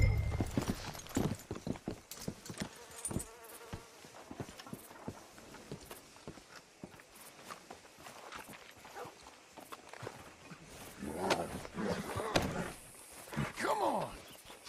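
Horse hooves clip-clop in Red Dead Redemption 2, a loose, uneven series of hoof strikes on the ground at close range, with occasional voices and other game sounds rising in the later seconds.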